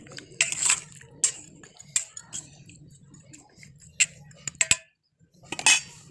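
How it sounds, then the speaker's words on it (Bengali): Fish stirred in water in a karai, giving light scraping and clinking of a utensil against the metal pan in uneven strokes, fairly close, over a low background hum. "ভালো করে নাড়িয়ে নেব"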